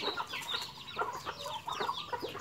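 Chickens cluck and chatter softly in a farmyard, a quiet run of short overlapping clucks with no talking.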